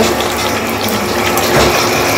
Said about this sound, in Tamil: இப்போ ஒரு 1/4 லிட்டரு தண்ணி ஊற்றணும்.